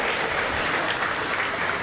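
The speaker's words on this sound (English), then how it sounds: "give these guild exhibitors a big round of applause" Steady, dense applause from a ringside audience at a purebred swine show, loud and continuous for the whole stretch with no talk over it.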